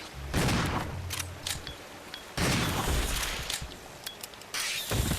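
Gunfire in the video game Resident Evil Zero HD: loud, dense bursts of shots with mechanical clatter, in two or three rapid volleys with short gaps.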